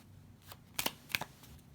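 Tarot cards from a Deviant Moon deck slid and picked from the pile, a few soft papery flicks and snaps, two sharper ones close together, quiet and close with no talking.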